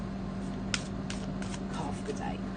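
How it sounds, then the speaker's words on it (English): A Black and White Tarot deck is shuffled by hand, giving a few soft, brief riffling bursts over a steady low hum. "Just a little shuffle."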